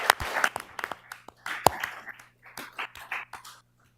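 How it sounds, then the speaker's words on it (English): Scattered applause from a small group at a county commissioners court meeting, honouring a retiring county employee after 25 years; several hands clap unevenly for about three and a half seconds before tapering off. "So give Jennifer a big round of applause for 25 years."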